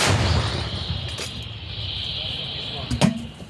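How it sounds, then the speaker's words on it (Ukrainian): Heavy booming blasts from an M119 howitzer sound over rumbling outdoor noise near Bakhmut: one near the start and a louder thump about three seconds in, with no clear talk. "Гармата! Постріл!"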